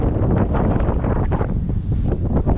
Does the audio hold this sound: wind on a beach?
yes